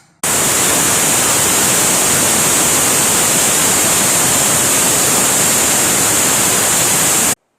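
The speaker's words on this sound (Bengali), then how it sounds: "প্রেসারটা বের করে নিচ্ছি" A pressure cooker that has just cooked khichda with meat and chana dal vents steam in one loud, steady, broadband hiss. It starts abruptly, holds constant for about seven seconds, then cuts off sharply.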